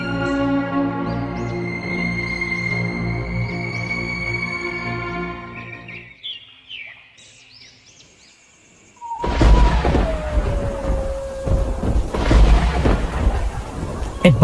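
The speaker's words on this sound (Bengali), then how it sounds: "বাইরে এত বৃষ্টি হচ্ছে" A thunderstorm with heavy rain starts with a dull rumble under music. After a quieter gap, loud crashing thunder and a roar of downpour burst in and keep surging.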